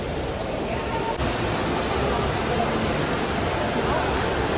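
A decorative waterfall in Las Vegas pours as a constant, dense rush of falling water, loud and even across the whole span, with no distinct voices standing out.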